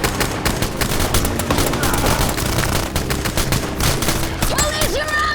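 Rapid gunfire fills a special forces drama battle, with dense bursts of automatic shots and loud, continuous cracks layered under shouted commands.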